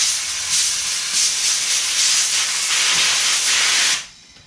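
Compressed air blasting from a long air nozzle on a Can-Am, a loud continuous close hiss with slight pulsing that cuts off abruptly near the end.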